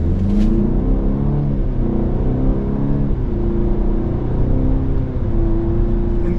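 A 2024 Cadillac XT4 Luxury AWD SUV pulls away from a stop, its engine note rising smoothly through a steady acceleration, heard from inside the cabin with no talking.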